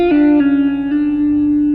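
A guitar plays a katka ornament in a pentatonic raga, a single sustained note quickly flicked to the note above and the semitone below before settling back, with a clean, slightly effected tone and no talking.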